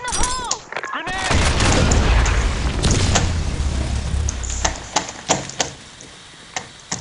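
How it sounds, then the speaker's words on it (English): A grenade blast in the BlackShot shooter game lands as a heavy boom with a rumbling tail, followed by scattered gunshots and clicks as the fighting continues. "Fire in the hole! Grenade."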